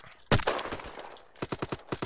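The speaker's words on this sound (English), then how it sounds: "I hear gunshots." Gunfire in the online shooter game Shell Shockers: one sharp loud shot followed by a quick run of lighter cracking shots, close and punchy.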